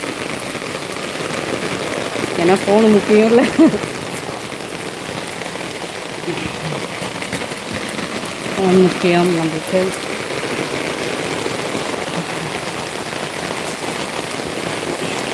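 Heavy rain pours steadily and loudly throughout, a dense hiss under two short bursts of someone speaking.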